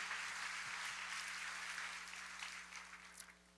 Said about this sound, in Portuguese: Eu quero dar uma salva de palmas para esse povo